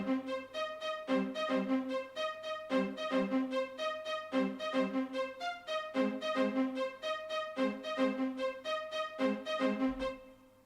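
Short, detached staccato string notes play a repeating melodic pattern in a hip-hop beat, steady and rhythmic with a low bass underneath, alone without talking.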